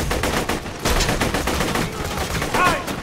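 Rapid bursts of video game gunfire from a heavy-recoil weapon crackle through the whole stretch, loud and dense, with a brief gap near the middle and a sharper ringing shot toward the end.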